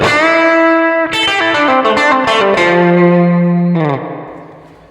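Distorted electric guitar recreating a classic guitar tone through a Quad Cortex plays a sequence of sustained chords and notes, each bathed in a wash of plate reverb that lingers as the final note fades.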